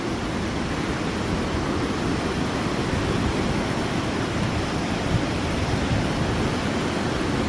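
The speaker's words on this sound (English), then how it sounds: "There's a waterfall." A waterfall on a trekking route in Nepal's backcountry gives a steady, broadband rushing roar, constant and moderately loud throughout with no voices or other distinct sounds.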